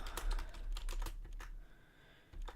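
Rapid keyboard typing during an indie typing video game, a dense run of clicky keystrokes close up, pausing briefly near the end before resuming, with no talking.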